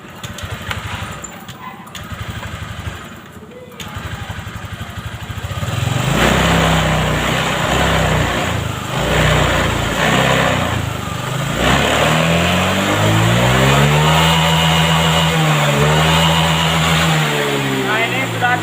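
A Honda Vario 125 scooter sits quiet for a few seconds, then its engine starts up close by and is revved repeatedly, the pitch climbing and falling in steady waves.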